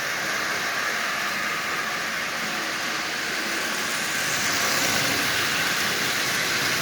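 A Marx 490 toy train with a double reduction motor runs around its track at half power, giving a continuous steady whirring hum with faint rail noise and no voices.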